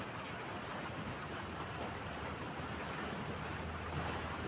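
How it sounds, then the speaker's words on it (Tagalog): Strong, cold wind roars continuously against the microphone, a dense, unbroken rush with no pauses and no voices. "Malakas yung hangin."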